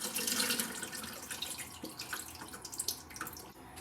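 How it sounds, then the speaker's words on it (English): Rice soaking water pours out of a pot into a sink while cooking Jamaican curry goat with gungo rice and peas, a steady close splashing and trickling stream with small drips, with no talk over it. "So you have to throw off this water."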